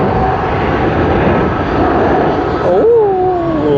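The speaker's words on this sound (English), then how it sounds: "CX-181, the Boeing 777 of Cathay Pacific, the third arrival of Cathay Pacific from Hong Kong this morning" A Cathay Pacific Boeing 777 arriving at Sydney Airport from Hong Kong roars as a broad, steady engine rumble, loud and sustained, while a voice talks over it.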